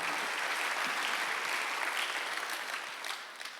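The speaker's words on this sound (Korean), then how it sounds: "한번 박수하세요" A church congregation at a Sunday worship service claps together in sustained, dense applause that fills the hall steadily before tapering off near the end.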